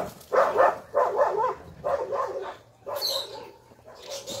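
Dogs bark in a string of about five loud, sharp bursts at irregular intervals, close by, with short quiet gaps between them.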